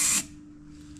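A brief burst of spray from an aerosol can being used on boat work, a loud hiss lasting about a fifth of a second and then cutting off, followed by a low hum and a faint rustle.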